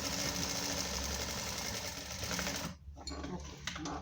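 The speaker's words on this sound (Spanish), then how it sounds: "fijo la tela a la otra tela usando una costura con la máquina de coser" A sewing machine runs steadily, stitching one piece of fabric to another while sewing a jacket pocket. It whirs continuously and close up for most of the moment, then stops abruptly near the end.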